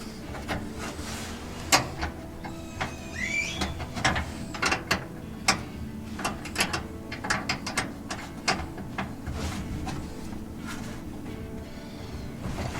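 Tightening work on a 1955 Ford F100 truck: a ratchet clicks in repeated quick bursts of sharp metallic ticks, close and fairly clear, with short pauses between strokes and no talking.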